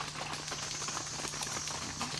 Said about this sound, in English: With these horses, they have what is a 4-beat lateral gait.